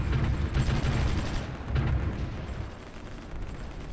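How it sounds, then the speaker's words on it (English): Anti-aircraft gun fire in the strategy video game Supreme Ruler Ultimate: a dense, rumbling roll of booming bursts that swells near the start and around 1.7 seconds, then settles into a steady low roar. "Oh, that's anti-aircraft gun."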